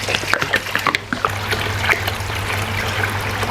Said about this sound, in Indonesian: Sekarang langsung gua masukin ya airnya ya.